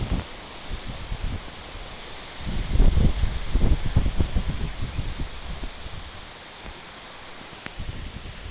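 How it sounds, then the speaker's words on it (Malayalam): Strong wind blows in gusts past an old British-era gate, a rough rushing roar that swells loudest in the middle and then eases back, with no voices. "ഭയങ്കര കാറ്റാണ്ട,"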